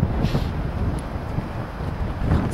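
Wind buffeting the microphone at a lagoon in Lancing, West Sussex, a steady low rumbling roar that stays fairly loud throughout, with a few stronger gusts and no voices.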